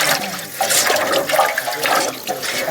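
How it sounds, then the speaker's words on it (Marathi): Red, masala-stained water from washing chicken is poured out outdoors at a farm cookout, making a continuous loud splashing gush that lasts a few seconds, with no talking. "हे बघा हे लाल लाल पाणी मसाला लागलेला त्याचं टाकून देत आहे मी आता"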